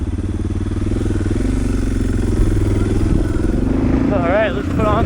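A loaded dual-sport motorcycle with a dirty air cleaner idles roughly and unevenly, a close, loud, low chugging engine that runs steadily throughout, with a voice briefly speaking over it near the end.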